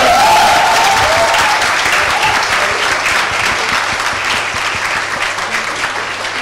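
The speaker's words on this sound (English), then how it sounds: "Guys, a huge round of applause for the panelists." A festival audience gives loud, steady applause to panelists after a discussion on advertising and design, a dense wash of clapping that fades slightly over several seconds, with a brief voice near the start.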